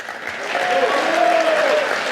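Audience applause in a hall during a speech by Cédric Villani at the Trianon, a steady dense wash of clapping with some voices mixed in, sustained at even volume throughout.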